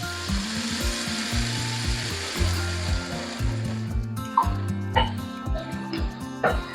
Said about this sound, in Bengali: এবারে দিয়ে দেবো অল্প পরিমাণে গরম জল।